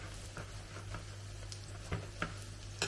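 A paratha fries in hot oil with a soft, steady sizzle, punctuated by a few faint clicks and taps as it is moved gently around the pan, close up and without speech.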